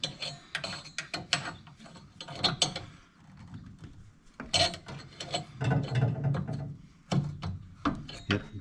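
A 1981 VW Vanagon engine crank turned by hand, a series of close, irregular ratcheting clicks and mechanical clunks in bursts, with a few quiet pauses.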